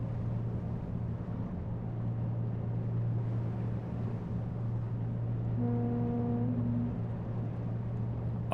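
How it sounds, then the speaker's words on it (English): A ship's foghorn in the game Seafarer the Ship Simulator sounds one deep, steady tonal blast lasting about a second, over a constant low engine drone and rumble, with no speech. "I wish it wouldn't play random foghorn sounds, because I keep thinking there's a ship nearby."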